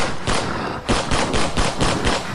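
Rapid gunshots from a handgun fired at a shadowy figure, a burst of about seven sharp, loud cracks in quick succession with a short gap after the first, standing alone without speech.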